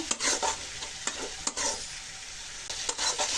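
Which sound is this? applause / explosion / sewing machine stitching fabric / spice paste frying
spice paste frying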